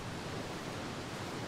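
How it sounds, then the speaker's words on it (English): Steady broadband rush of a waterfall in Skyrim Special Edition, a continuous even roar with no breaks, moderately quiet and heard alone. "Oh, look at that waterfall."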